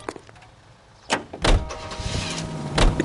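In the video game L.A. Noire, a car door shuts with a few solid thuds and clunks over a low engine idle, close and fairly loud.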